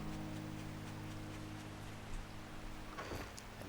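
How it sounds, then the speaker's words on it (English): Steady rain hisses across the in-game world of 7 Days to Die as a constant soft wash under a low hum, with someone talking briefly over it near the end. "The rain's a bit unpleasant, but not detrimental"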